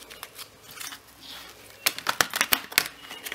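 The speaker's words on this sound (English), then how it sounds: "let's shuffle the cards" A deck of tarot cards shuffled by hand makes quick crisp papery clicks and flutters, sparse at first, then a faster burst of sharp snaps.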